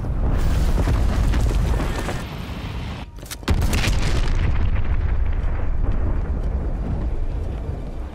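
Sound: cruise missile explosion in the video game Call of Duty Black Ops Cold War

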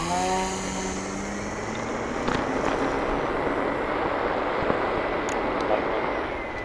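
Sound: Timber X 1.2 RC plane motor during takeoff

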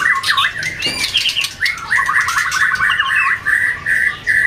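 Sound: magpie robin singing

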